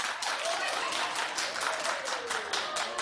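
A studio audience at a daytime talk show claps in sustained applause, a dense mass of hand claps that stays steady and fairly loud throughout.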